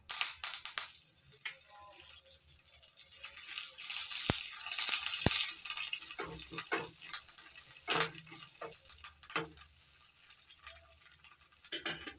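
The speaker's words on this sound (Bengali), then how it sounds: "গ্যাস বন্ধ করে দিয়ে দিচ্ছি শুকনো লঙ্কা, আর কারি পাতা।" Dried red chillies and curry leaves crackle and sizzle in hot oil with the gas just turned off, a tempering for South Indian hotel-style coconut chutney; a dense, close hiss with sharp pops and stirring scrapes runs throughout.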